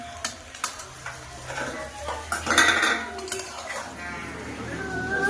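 Chow mein lifted off a pan with utensils in a village-style kitchen, with irregular metallic clinks and scrapes of cookware close by, several sharp taps scattered through a steady low background hum.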